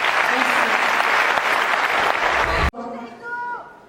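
Loud, dense applause from a comedy show audience fills the first few seconds and then cuts off abruptly, after which a person speaks over faint remaining crowd noise.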